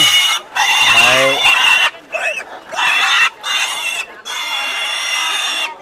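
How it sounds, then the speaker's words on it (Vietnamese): A red pig caught at a rural highland market in Lào Cai squeals in loud, shrill, repeated bursts separated by brief pauses, with a voice speaking briefly near the start. "Gọi là lợn đỏ không nhỉ?"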